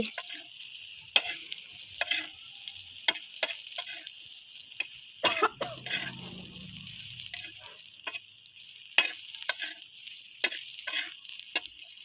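Food roasting in a pan on a home stove, a faint steady sizzle dotted with sharp pops and spatters throughout, quiet and close.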